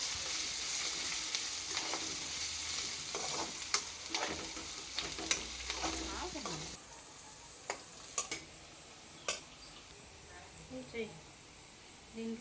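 Ginger paste sizzles and fries in a pan, with a steady crackle and occasional scraping stir strokes close by; the sizzle eases partway through.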